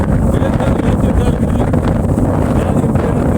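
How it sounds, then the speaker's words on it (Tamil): Strong wind blowing on a mountain trek at Renga Malai, loud continuous low rumbling gusts buffeting the microphone and drowning out any other sound. "சரியான காத்து அடிச்சிட்டு இருக்கு."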